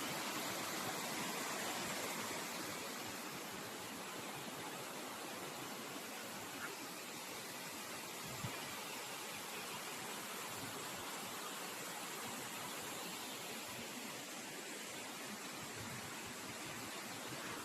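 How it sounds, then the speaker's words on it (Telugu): Gumma waterfall flowing, a continuous dense roar of falling water heard alone and steady from start to finish. "చూసారు కదా ఫ్రెండ్స్ జలపాతం అయితే ఈ విధంగా ఉంటుంది"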